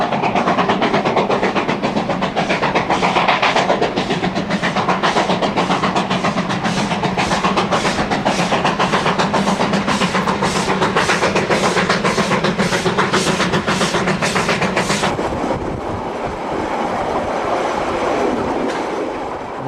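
Transalpine passenger train running through rugged mountain country, loud and close, with a steady rumble and rhythmic clickety-clack of wheels over rail joints that thins out as the carriages pass.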